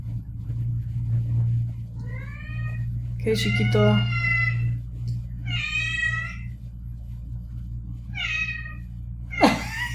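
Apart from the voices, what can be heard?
cat meowing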